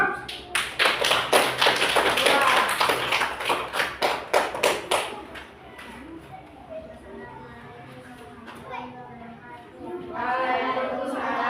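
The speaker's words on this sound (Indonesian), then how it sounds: "tepuk tangan untuk kelompok." A group claps together in sharp, rhythmic bursts for about five seconds, then the clapping stops and quieter voices and chatter carry on through the rest.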